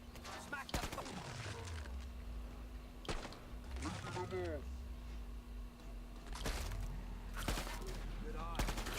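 Gunfire from a low-recoil gun in the video game Killing Floor 2 sounds in short bursts of sharp shots, mixed with swooping game effects and steady background hum.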